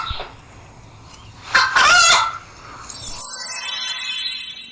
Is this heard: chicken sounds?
yes